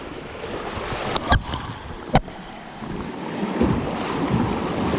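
A Crescent CK1 Venture kayak rides up and over river waves, with a steady wash of water and wind noise and a couple of sharp splashes or knocks partway through.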